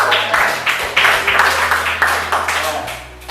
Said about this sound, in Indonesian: Tepuk tangan lagi juga